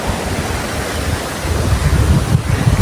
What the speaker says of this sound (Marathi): हा बघा समुद्र आणि मित्रांनो पाऊस सुद्धा येत आहे